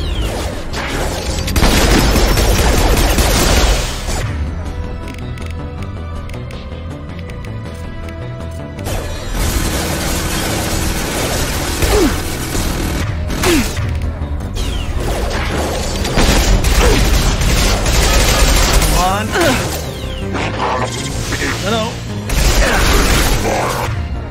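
Grenade blasts and gunfire erupt in the video game Mass Effect 2, heavy booms and crashing bursts that swell and drop repeatedly over a dense, loud combat soundtrack.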